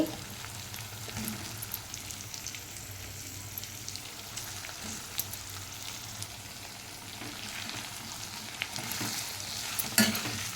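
Drumsticks and potatoes frying in oil in a pot for a village-style curry, a soft steady sizzle with faint stirring scrapes and occasional light clinks, fairly quiet and close.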